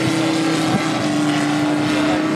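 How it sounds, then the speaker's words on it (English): A 1912-style model aircraft's propeller engine at a model show flight line drones steadily and loudly throughout, a constant buzzing whine with no talk. "This is a 1912 aircraft."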